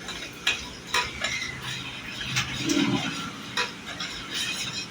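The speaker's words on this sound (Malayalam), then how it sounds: "നന്നായിട്ട് ഇളക്കി കൊടുത്തിട്ട് നമുക്കൊന്ന് ആറ്റി കൊടുക്കാം കേട്ടോ" Metal spoon clinks and stirring against a vessel of strong tea, with a brief splashing pour as the tea is poured between vessels to cool, close up and no talking.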